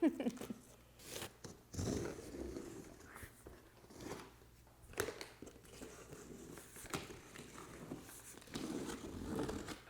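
A large cardboard box holding a 98-inch TCL XL QLED TV being cut open: quiet, irregular scraping, crunching and tearing bursts with pauses between, close by.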